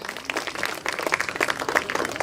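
Applause from a small audience at an office Christmas party, a steady patter of hand claps running throughout at moderate volume, close and continuous.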